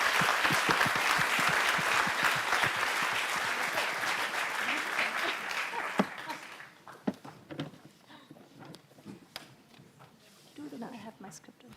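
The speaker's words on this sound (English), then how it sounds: "Let's give the panel a warm applause and thank them for participating." Warm audience applause for a conference panel at an environmental anniversary event, steady and full for about six seconds, then fading to scattered claps, shuffling and a few voices in the hall.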